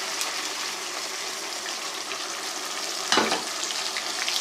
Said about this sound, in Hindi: अब हम इसमें प्याज का पेस्ट शामिल करते हैं।